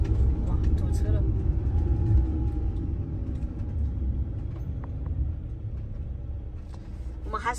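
A low, steady rumble of engines from cars stuck in a traffic jam on a road in Xinjiang, heard from inside a vehicle while people talk throughout.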